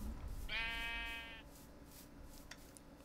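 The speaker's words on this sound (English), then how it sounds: "Some sheep." A single sheep bleat from Minecraft, a wavering tonal cry lasting about a second over a low, steady game background, with no voices.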